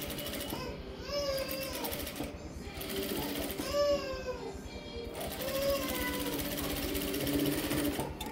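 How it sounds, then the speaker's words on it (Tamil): A sewing machine stitches a half-inch seam in bursts of rapid mechanical whirring, pausing between runs, moderately loud and close. "அப்படியே ஒரு 1/2 இன்ச் மெஷர்மெண்ட்டில் நீங்கள் வந்து ஸ்டிச் பண்ணி இதை எடுத்துங்க."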